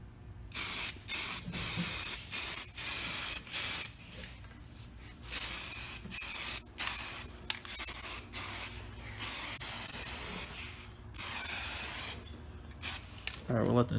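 Short bursts of aerosol spray paint hiss on and off in an irregular rhythm as a light coat goes onto a Foxbody Mustang quarter window cover, each pass close and fairly loud.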